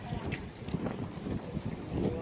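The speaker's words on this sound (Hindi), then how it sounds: "ये आप देख सकते हैं तेज़ तेज़ हवाएं चलनी शुरू हो गई हैं इनके पास" Strong wind gusts outdoors, rushing and buffeting against the microphone in uneven low rumbles, with faint indistinct voices mixed into the blustery noise.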